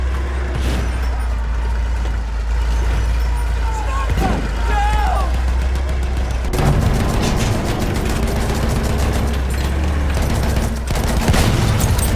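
Battlefield 1 combat: rapid automatic machine gun fire rattles in from midway, layered over a constant low engine rumble and dense battlefield noise, loud and close throughout.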